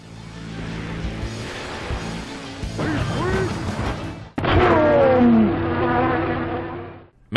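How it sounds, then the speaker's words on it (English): Bee swarm special weapon in the car combat game Vigilante 8, a loud buzzing drone that runs throughout, over engine noise and a sharp crash midway, then cuts off abruptly at the end. "Beeswax uses the Gamma Swarm special, which unleashes a small swarm of bees onto your targeted opponent"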